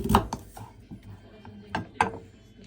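Knife slicing camote or coconut, a few irregular sharp cuts spaced across the moment with a couple of louder strokes, close and fairly clear, with no talk over them.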